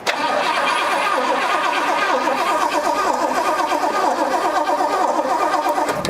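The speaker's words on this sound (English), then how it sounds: "she should be trying to crank after that" A 1972 Pontiac barn find, sitting for 20 years and freshly given new oil, a new filter and gas, cranks loudly and continuously for about six seconds, a steady rhythmic churning with no voices.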